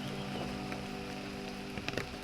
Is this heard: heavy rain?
yes